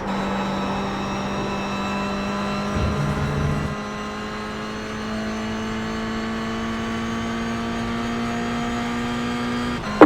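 A Toyota GR86 laps Watkins Glen in the iRacing sim with a continuous engine whine, a brief dip around a gear change or braking, then steadily rising revs as it accelerates again.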